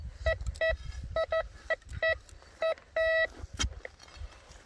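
A metal detector sweeps over buried metal on a hillside where gardens once stood, giving a series of short, close, clear electronic beeps in an irregular rhythm, with one longer tone among them.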